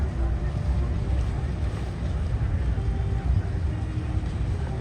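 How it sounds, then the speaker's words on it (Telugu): Boat ride on a river in Dubai at night, heard as a steady low engine rumble with water and wind noise throughout, fairly loud and constant. "చూడండి బోట్ రైడ్లు ఎలా ఉంటాయో, ఇలా తీసుకెళ్తూ ఉంటారు."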